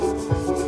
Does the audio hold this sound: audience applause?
no